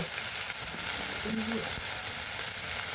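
Green chilies sautéing in a pan for a Tamil-style roasted brinjal thuvaiyal, a steady broadband sizzle filling the clip with a brief stir partway through and no talking.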